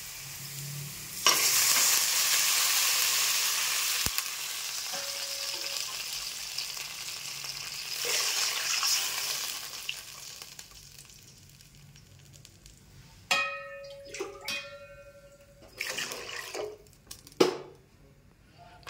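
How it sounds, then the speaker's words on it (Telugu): Water poured into a hot pan while making upma bursts into loud hissing sizzle, fades, surges again, then gives way to clattering stirring and scraping. "వాటర్ పోసుకోవాలి"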